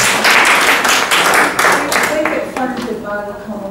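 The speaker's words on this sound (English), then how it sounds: "I think that deserves a round of applause" Audience at an educational meeting on disability discrimination gives a round of applause, loud clapping that tapers off as a voice begins speaking over it toward the end.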